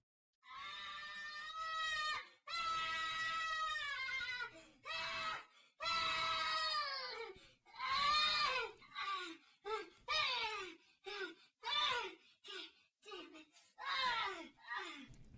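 Loud, shrill screams play from a clip in repeated bursts, with long sustained wails at first and then shorter, choppier cries, each set off by brief gaps.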